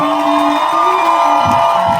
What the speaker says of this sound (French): Est-ce qu'on peut pousser des grands cris de joie pour eux?